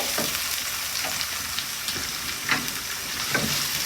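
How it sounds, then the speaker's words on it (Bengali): Chopped tomatoes sizzle and fry in a hot pan while being stirred, giving a steady close frying hiss broken by scraping stirs. "তারপর এখানে দিয়ে দিচ্ছি টমেটো কুচি সবগুলো একসাথে মিক্স করে নিচ্ছি"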